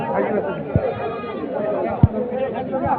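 Goats bleat among the steady chatter of a crowded livestock market at Ambari, with people talking throughout.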